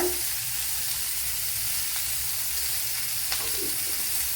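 Half a teaspoon of cumin seeds sizzles in hot oil for a pumpkin masala curry, a steady loud frying hiss that continues throughout with no talking.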